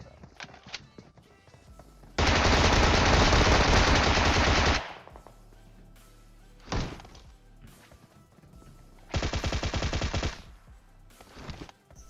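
Automatic gunfire in the mobile game PUBG Mobile: two long, loud sustained bursts of rapid shots separated by a single short burst, with quieter game ambience and scattered thuds between.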